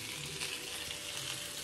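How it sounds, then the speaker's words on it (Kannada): Mackerel (bangude) fish frying in a pan, a brief steady crackling sizzle, even and close, with no voices. "ನಮ್ಮ ಒಣಸಿಗೆ ಮೀನು ಫ್ರೈ ಆವೊಂದುಂಡು ಬಂಗುಳೆ"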